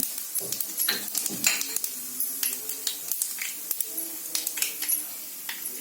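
Mustard and cumin seeds crackle and spit in hot oil, a close series of sharp irregular pops and sputters over a faint sizzle.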